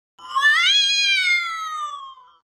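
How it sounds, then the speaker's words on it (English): A cat lets out one long, drawn-out wailing cry that rises and then slowly falls, sounding much like a crying baby; it is loud, close and alone, with no talking. "hearing noises of cats crying that sound like babies"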